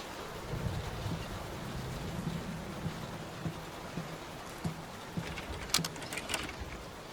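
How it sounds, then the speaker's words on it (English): Storm rain in the video game Layers of Fear, a faint steady hiss of downpour with soft low thuds and a few brighter rattling bursts near the end. "Will this storm ever run out of rain?"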